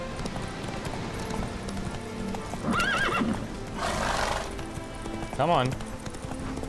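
Roach the horse in The Witcher 3 clip-clopping steadily, with a couple of loud whinnies partway through and someone speaking briefly over the hooves.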